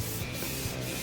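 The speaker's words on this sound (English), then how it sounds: "Water just helps lubricate it, so you're not sanding through it in a hurry" Wet sandpaper rubs over a part on a 1980 Yamaha XJ650 cafe racer motorcycle, a soft close back-and-forth scrubbing with water, two quick strokes and no talking.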